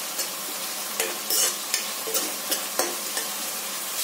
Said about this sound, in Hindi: फ्रेंड्स इसको लो मीडियम फ्लेम पर फ्राई कीजिएगा, हाई पर मत कीजिएगा क्योंकि जल जाएगा